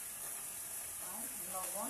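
Cumin, ginger paste and turmeric sizzle in hot oil with a steady, bright frying hiss throughout, a few faint scraping stirs near the end, close and even, with a voice talking faintly underneath.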